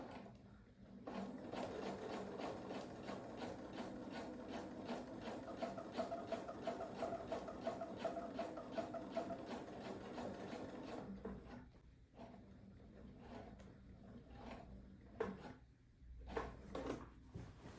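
A domestic sewing machine quilts an All in a Row quilt in a fast, even run of close needle clatter, then stops and restarts in short bursts with pauses between.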